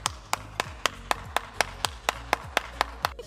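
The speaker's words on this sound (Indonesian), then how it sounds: "aplaus bagi Stefanus" Rhythmic group clapping in applause for Stefanus, about a dozen sharp claps in an even beat, fairly close, with no voices.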